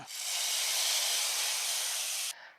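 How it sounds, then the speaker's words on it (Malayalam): Hot chili-powder tempering poured into curry gives a loud, steady sizzle and hiss that holds for about two seconds, then drops off sharply, with no voices. "ഇനി ഇത് കറിയിലോട്ടങ്ങ് ഒഴിച്ചേക്കാം"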